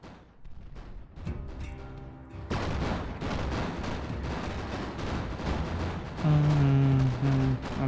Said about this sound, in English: that looks like it's lining up a missile